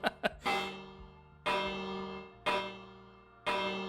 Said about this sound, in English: If I just flip this, you're going to hear a bell.